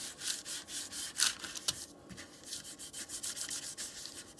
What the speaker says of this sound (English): I'm slowly letting this down as I'm burnishing it side to side, making sure I get 0 air